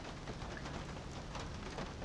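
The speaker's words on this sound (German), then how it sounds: "Es regnet doch wie verrückt. Ich werde warten, bis das Gewitter vorüber ist." Heavy rain in a thunderstorm in the video game Syberia, a dense, steady hiss of downpour at even loudness throughout, with no voices.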